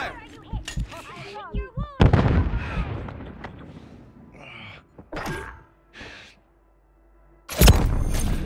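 Gunfire in the Warzone video game: several sharp bursts and thuds crack out between stretches of talk, with a loud blast near the end, loud and close over game sounds and voices.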